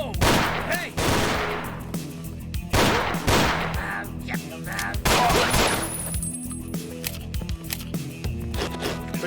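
Gunfire in the Ashes 2063 video game, the crack of a raider's rusty Glock, comes as repeated loud close shots in uneven bursts across the clip, with a few quieter gaps between volleys.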